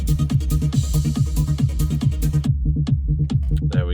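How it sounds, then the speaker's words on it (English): A punchy electronic trance kick drum thumps in a steady fast pulse with a deep bass line moving beneath it, loud and dry, stopping abruptly near the end. "So there's a kick and bass."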